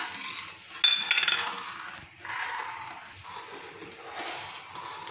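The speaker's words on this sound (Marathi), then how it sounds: "थोडं थोडं कस्टर्ड पावडर टाकत जायचं आणि दूध येतं हलवायचं आहे" A spoon scrapes and clinks against a kadhai while milk mixed with custard powder is stirred, giving soft intermittent metallic taps and scraping at close range, with no voices.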